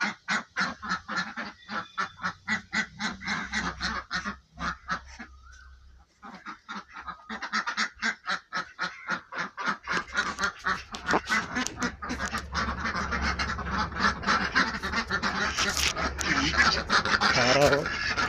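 Ducks waiting for food call and quack in a clamorous flock, a rapid rhythmic run of loud honking calls close by, briefly pausing before building again into a denser, continuous racket.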